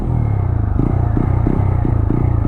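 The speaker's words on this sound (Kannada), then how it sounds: "ಇಂಡಿಯನ್ ಇಂಜಿನು ಸೌಂಡ್ ಸೌಂಡ್ ನೋಡಿ ಹೆಂಗೈತೆ" A TVS Apache RTR 200 motorcycle engine idles close by with a loud, rhythmic thumping rumble, steady throughout with regular pulses; no voices.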